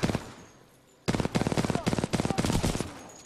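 Automatic weapon fire in the Titanfall 2 shooter game, with a short faint lead-in and then from about one second a loud, rapid string of evenly spaced shots in close succession.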